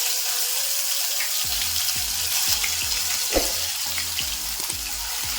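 Green chili paste, cumin seeds and curry leaves sautéing in hot oil for stuffed capsicum, a loud continuous sizzle with repeated rhythmic clicks of a spoon against the pan.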